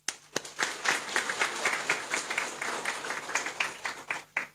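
Audience applause at the Miss Pacific Islands pageant in Honiara, Solomon Islands, a steady crowd of clapping hands from start to finish, fairly loud and close.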